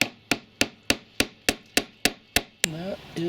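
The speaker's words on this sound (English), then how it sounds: "you just hammer the nails into the wood and it will be secure" Nine sharp, evenly spaced hammer blows drive nails into wood, loud and close, ending with a brief scraping rub.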